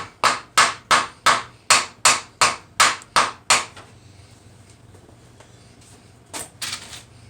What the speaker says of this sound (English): I tap them into the wall.